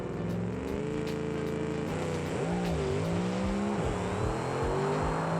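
A nitromethane drag car in BeamNG launches on a drag pass with a loud, continuous engine roar that climbs and dips in pitch as it accelerates down the strip.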